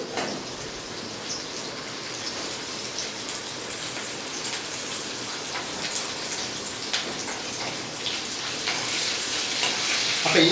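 Garlic and ginger frying in hot oil in a pan for a curry-leaf chicken roast, a close, continuous crackling sizzle with scattered pops that grows a little louder toward the end, no voices.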